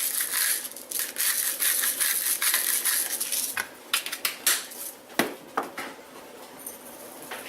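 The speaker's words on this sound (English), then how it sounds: "we'll just mix them around here in the bowl, shake them around" Seasoned pieces of food are mixed and shaken around in a bowl, giving a dense, close rattle and scrape that breaks into separate clattering shakes with pauses between them.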